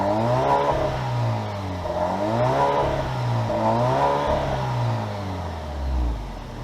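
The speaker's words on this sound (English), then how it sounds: "we'll get a little grumble out of what we have here, which is the internal combustion engine" A 2024 Alfa Romeo Giulia Sprint RWD's combustion engine rumbles and revs up and down several times in smooth swells, close by and steady, with no talking.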